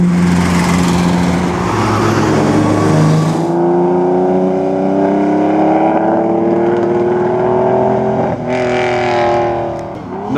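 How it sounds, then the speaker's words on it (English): Ferrari cars in the 2010 Mille Miglia road race in Italy, engines loud and close, a revving harmonic whine climbing in pitch as one car accelerates, another surging in near the end. "Another Ferrari."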